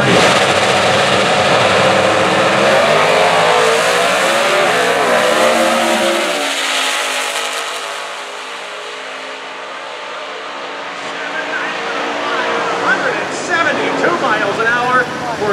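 A naturally aspirated 358-cubic-inch Super Stock Mustang drag car screams at full throttle down an NHRA strip, a loud engine note climbing through the gears, then fading into the distance before crowd and track noise return.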